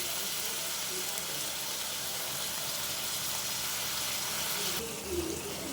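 Food frying in a pan on a home stove, a steady broadband sizzle and hiss that continues unbroken for several seconds, close and fairly loud, with no voices.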